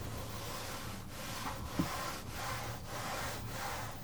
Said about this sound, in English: we're just going to wipe it down because there was silicone in these